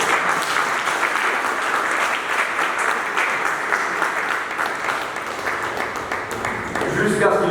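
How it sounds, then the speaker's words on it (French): Steady audience applause at a national eloquence contest continues as a thick, even wash of clapping, with a voice starting to speak over it at the very end. "Je pensais que vous applaudiriez un peu plus fort et un peu plus longtemps."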